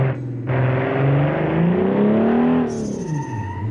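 Car engine in the driving game BeamNG revving up through rising pitch, then dropping as a gear shift hits with a whine, steady and close with no talk.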